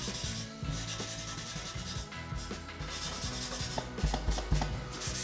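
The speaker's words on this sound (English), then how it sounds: "grab your Scotch-Brite, which we might do, and do some scratches in it" Scotch-Brite abrasive pad rubbed over a painted gas can for a patina finish, giving a close, steady scratchy scrubbing that grows a little rougher toward the end, with no speech.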